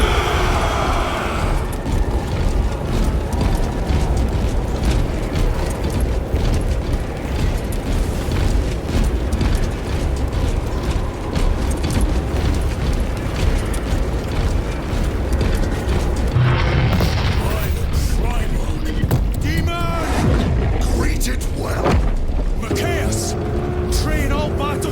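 Dense, continuous battle din from the Warhammer 40,000 Space Marine video game, with sustained gunfire and heavy explosive booms rolling loud throughout, shouted voices mixed into the chaos.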